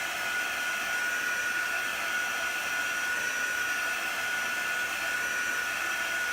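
A heat tool drying chalk paste on a transfer, a constant, even, high-pitched blowing whir running without pause, close and moderately loud.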